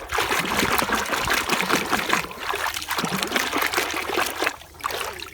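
A toy water gun sprays water in a steady, close hiss and trickle, continuous with slight fluctuations and a short dip near the end, no talking.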